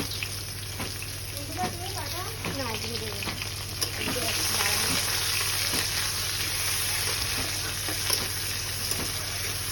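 Onions frying and sizzling in a pan for a country-chicken egg rezala, a steady broad hiss with occasional stirring clinks and a faint voice in the background.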